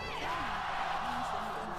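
Arena crowd at an LPL League of Legends esports match cheering and whooping in a steady roar, with scattered yells rising above it and no talk.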